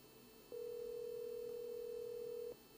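A steady electronic telephone tone of an international call to Israel sounds alone for about two seconds, then cuts off, over a faint background hum.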